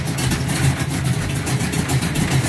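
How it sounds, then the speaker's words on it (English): A 1969 Dodge Charger hot rod V8 runs after a cold start, idling loud and close with a steady deep rumble and a slightly uneven pulsing beat, no voices over it. "That's its cold start. It's just about tuned and ready."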